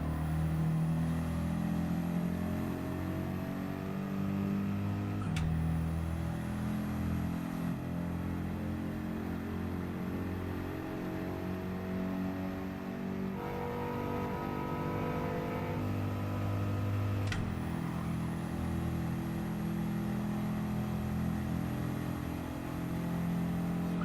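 Car engine in Gran Turismo 7 revving and pulling through gears during a race, a continuous droning tone that climbs in pitch with sudden drops at two upshifts, steady and fairly loud with no talk.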